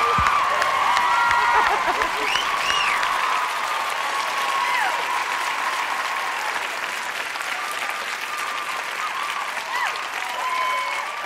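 Sustained applause from an awards-show audience fills the hall, broad and steady throughout, with scattered whistles and whoops rising above the clapping.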